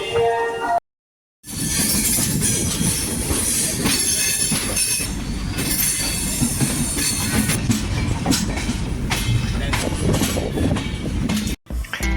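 Passenger train running after leaving Rayagada station, heading toward Andhra Pradesh, with a loud continuous rumble, wheel squeal and clinking rattle from close by, briefly cut out near the start.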